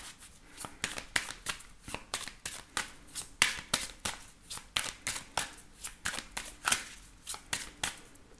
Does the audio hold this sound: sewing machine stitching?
no